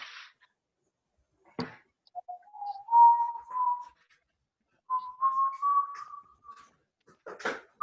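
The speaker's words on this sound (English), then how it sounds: "Somebody's whistling in the background." Someone whistles a few drawn-out, slightly rising tones somewhere in the background, faint and thin, broken by short clicks and knocks during an online class.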